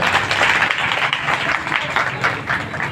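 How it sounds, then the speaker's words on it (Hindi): An audience at a Bhagwat Katha religious discourse claps for Meerabai, a dense, steady wash of many hands sustained throughout, with no talking over it. "मीराबाई के लिए तालियां तो बजा के"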